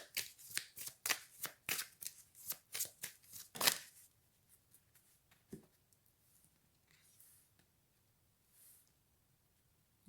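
A deck of tarot cards is shuffled with a quick series of crisp, riffling bursts for about four seconds, followed by softer scattered rustles and slides as cards are drawn, close up in a quiet room.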